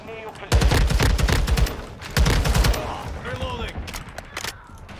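Rapid bursts of gunfire from a video game crackle in two heavy volleys, then scattered single shots trail off amid game sounds.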